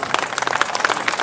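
An audience applauds Constantin Măgureanu at an honorary citizen ceremony in Crâmpoia, Olt, with a dense, steady burst of many hands clapping through the whole short moment.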